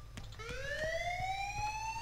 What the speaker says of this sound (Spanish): ¿Pero tío, querés parar la sirena?